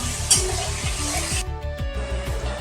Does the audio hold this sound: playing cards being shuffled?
no